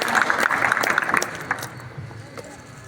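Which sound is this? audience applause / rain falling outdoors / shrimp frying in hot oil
audience applause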